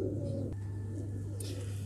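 Pigeon cooing close by, low steady throaty coos running continuously for about two seconds, with a brief higher chirp near the end and no talking.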